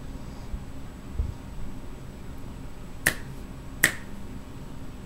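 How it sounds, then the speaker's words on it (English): Three sharp finger snaps ring out at roughly 3, 3.8 and 5 seconds over a faint hiss of background noise in a quiet room at the Karsten Inn, each snap crisp and close. "You can see the lines when I'm snapping my fingers and talking"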